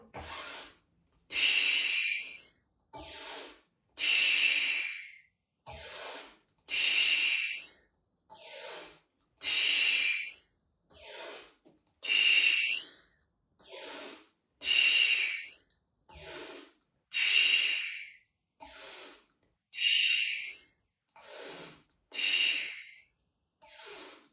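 Rhythmic breathing during a nonstop exercise routine, about fifteen deep breaths repeated steadily one after another, close and clear with quiet pauses between them.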